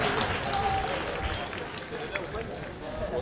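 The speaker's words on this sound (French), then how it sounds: "Applaudissements pour le joueur de notre salon." Spectators at a Coupe de France fifth-round football match applaud a player, a spread of steady clapping with crowd murmur underneath, moderately distant, lasting the whole moment.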